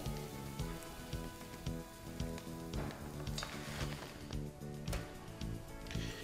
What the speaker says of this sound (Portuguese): Segundo passo, tostando o grão de arroz